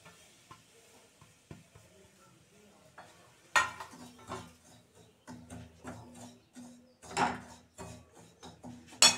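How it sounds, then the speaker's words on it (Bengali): Semolina poured into ghee in a pan and stirred for upma, quiet at first, then a run of clinking, scraping spoon strokes against the pan with a soft sizzle beneath, close and irregular. "দেবো সুজিটা, পুরো সুজিটাই ঢেলে দেবো।"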